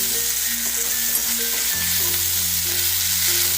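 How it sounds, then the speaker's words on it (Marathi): Potatoes being stirred into peas frying in a pan for a dry matar batata bhaji, giving a loud, dense, continuous sizzle heard close up without talk. "बटाटे टाकते आणि मिक्स करून घेते"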